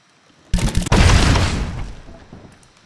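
A house blown up in the video game Scrap Mechanic, a sudden loud boom with a sharp crack near the start that rolls into a rumbling blast and fades out over about two seconds.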